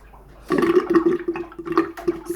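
Water draining out of a sink after rinsing a vintage doll's crimped hair, a close, gurgling rush of flowing water that swells and surges unevenly for about two seconds.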